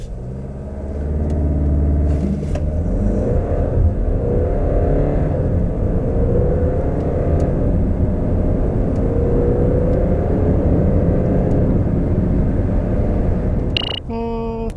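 A 2019 Land Rover Range Rover Evoque D180 diesel accelerates hard: loud, sustained engine drone and road roar rising in pitch and holding for over ten seconds, ending with a brief electronic beep.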